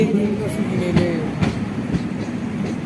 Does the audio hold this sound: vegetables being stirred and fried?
no